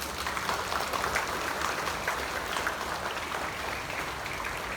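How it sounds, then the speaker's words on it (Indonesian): Applause from an assembled group of schoolchildren for class 6C at a school flag ceremony, a steady dense patter of many hands sustained evenly throughout without voices. "Kita beri tepuk tangan."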